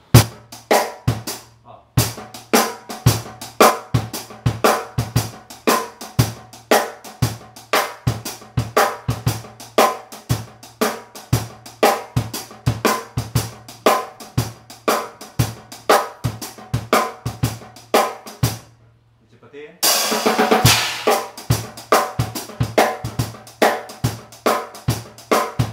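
Shuffle groove on a drum kit with ghost notes added, a steady swung pattern of crisp hits and soft in-between strokes that runs for about twenty seconds, stops briefly for a crash-like wash, then picks up again.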